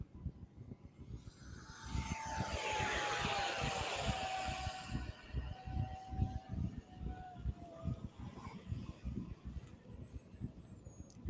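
An RC airplane with a 64 mm ducted fan takes off, its high whine rising and sweeping past at moderate distance, under a steady wash of wind noise and rhythmic crackling.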